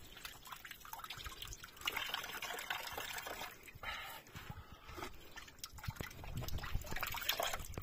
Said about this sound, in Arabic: اجيو نشوفو الماء، غنغسلو وجهي، غنبرد يدي راه حيت هاد الماء زوين